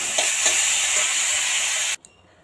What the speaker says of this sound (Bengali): এই যে বরমার শাকটা দিয়ে দিলাম। এবার এটাকে দিয়ে ভালোভাবে এবার ভাজবো।